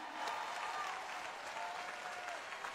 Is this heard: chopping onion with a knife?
no